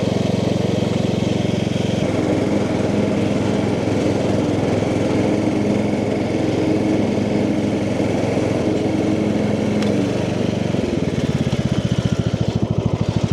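A Cub Cadet lawn mower runs continuously while cutting grass, its engine a loud, steady drone that shifts slightly in pitch near the end.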